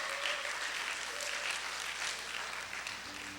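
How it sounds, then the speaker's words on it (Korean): A church congregation stands and claps together in a steady, even round of applause that fills the room at moderate volume, with a faint tone lingering underneath. "일단 일어나서 박수 쳐주시기 바랍니다."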